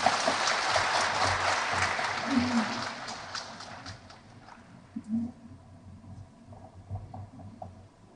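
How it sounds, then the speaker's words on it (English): An audience at an international seminar applauds the release of a souvenir by dignitaries. Loud, dense clapping fills the first few seconds, then thins to scattered claps, with brief voices under it. "Let's all give a big round of applause."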